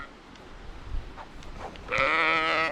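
Ewes on a farm bleat loudly and close by in a sustained, wavering call that starts near the two-second mark, preceded by quieter rustling and faint background noise.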